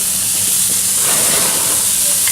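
Melted butter and brown sugar dripping from ham and pineapple kabobs onto a hot grill, flaring up with a loud, continuous hissing sizzle, heard close up.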